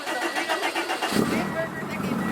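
A Honda Civic fitted with a full exhaust at a car meet, its engine swelling into a loud, close rumble about a second in and holding steady as voices chatter around it.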